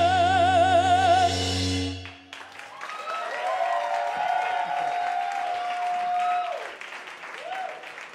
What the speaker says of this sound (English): That is the only time you can clap at Robert E. Lee.